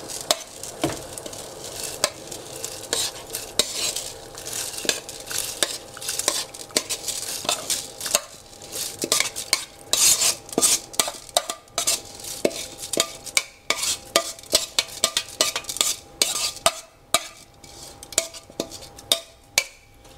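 A utensil scrapes and taps steadily against a saucepan of cooking rice, continuous stirring with frequent small clinks, close and fairly loud, no voices.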